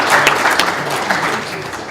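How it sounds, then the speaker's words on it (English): Audience applause at a Unity 5 game developer event: dense, steady clapping from a crowd for about two seconds, fairly loud and even. "Well, that's a big applause for you."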